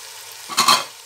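Chicken and vegetables hit a hot pan with a brief burst of sizzling and stirring that swells and fades within a second, close and loud, no talk.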